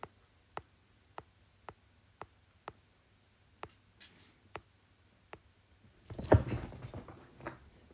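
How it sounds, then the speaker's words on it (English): A dog jumps onto a couch indoors, a short rustling, thumping scuffle of cushions and movement near the end, preceded by a run of evenly spaced soft clicks. "That was my dog jumping on the couch."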